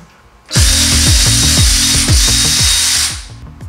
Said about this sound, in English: we're using the same 5-hex bit to remove the retaining screw